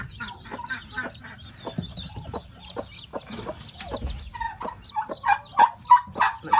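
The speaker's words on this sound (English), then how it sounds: "It's time to check on the mama hen and mama turkey hen to see if they're still doing good" A mother hen and a turkey hen cluck softly with their chicks, with chick peeps scattered throughout and a run of louder, closer clucks building toward the end.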